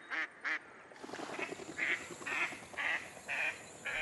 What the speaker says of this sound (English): Pacific black ducks are a distinct species, easily differentiated from other Australian ducks.